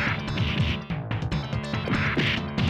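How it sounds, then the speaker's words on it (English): A metal pipe cracks against enemies in the SNES beat-'em-up Final Fight, several loud rapid impacts with smashing thuds over game music. "hearing the sound of steel meeting bone. Don't believe me? Compare the sound here"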